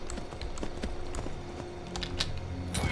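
Hooves of a black horse clip-clop in Skyrim, a steady series of light, fairly close thuds over low ambient game noise, with no talking.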